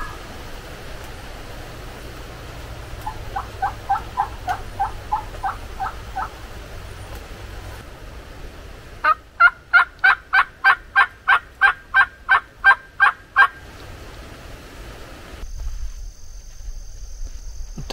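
An Osceola wild turkey gobbles in South Florida: a quieter, distant run of rapid rattling notes, then a louder, closer burst of about a dozen sharp pulses, over a windy outdoor background.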